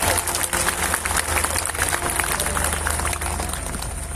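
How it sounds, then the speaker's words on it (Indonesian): A large stadium crowd at a Pentecost night gathering in Kuching claps together in a steady, fast rhythm, a broad wash of applause over a low rumble, with some shouting mixed in. "Berikan tepuk tangan sekali lagi untuk Tuhan."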